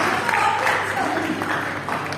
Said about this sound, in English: Let's give her a round of applause while she's doing it.